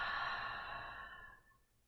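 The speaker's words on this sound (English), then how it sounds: "Let the breath release, exhale." A slow, breathy exhale during a Pilates breathing exercise, close and soft, trailing off gradually over about two seconds.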